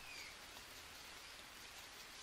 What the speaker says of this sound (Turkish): Bakın yağmur yağıyor arkadaşlar.